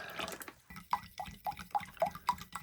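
Lukewarm room-temperature water poured in a few short splashes into a sugary military ration drink mix from a 2022 Russian IRP breakfast, giving quick close wet drips and glugs in a steady rhythm.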